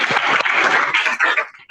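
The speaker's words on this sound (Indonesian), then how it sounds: "Oke, tepuk tangan dulu." Classroom applause from pupils during a lesson, a dense burst of clapping that stays loud for almost two seconds and then fades out.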